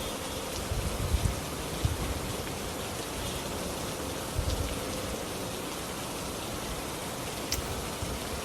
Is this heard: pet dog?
no